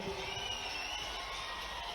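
Crowd applauding and cheering at a political rally with the chief minister in Sarni, Betul, a steady dense wash of clapping and voices that holds throughout.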